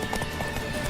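A horse gallops in The Witcher 3, its rapid rhythmic hoofbeats fairly faint and steady across a brief moment with no one talking.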